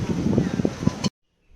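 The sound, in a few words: wind blowing at the beach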